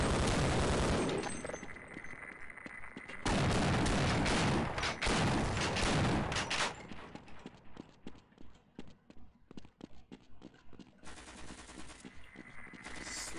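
Automated turret gunfire in Half-Life: long, loud, dense bursts of rapid mechanical shots, pausing and resuming, then thinning into separate shots before a final burst.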